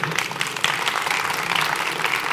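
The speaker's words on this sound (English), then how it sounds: "If I can ask for another quick applause." Audience applause fills a conference hall at a workplace-design event, a steady, dense clatter of many hands that holds at an even level throughout.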